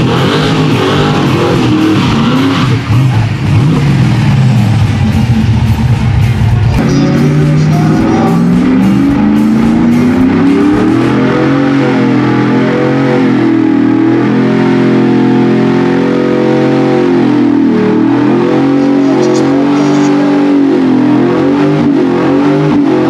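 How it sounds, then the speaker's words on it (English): Loud car engines rev hard and continuously at a burnout competition at a truck show, roaring and shifting pitch as they rise and fall, with no talking. "Burnout competition, and some of these cars could definitely roast the tires."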